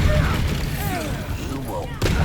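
Incendio fire spell cast in Hogwarts Legacy, a booming fiery blast with a rumbling low end and crackling bursts, sustained over a couple of seconds with a fresh burst near the end.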